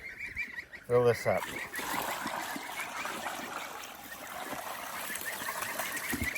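A goose in a backyard poultry pen lets out a short burst of close honks, followed by the steady trickle of water filling a container, with a few brief spoken words.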